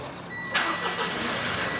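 A 2017 Mitsubishi Pajero 2.4GT fires up from its push-button start with a short rising burst, then settles into a steady idle, close and alone with no talking.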